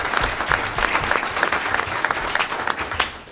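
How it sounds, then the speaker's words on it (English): Board of education meeting audience applauding a student cross-country athlete, a loud, close and steady burst of many hands clapping that continues evenly throughout with no speech. "So a round of applause for her."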